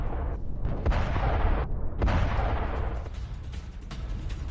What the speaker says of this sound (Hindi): आप देखिए एक साथ कितने धमाके हुए।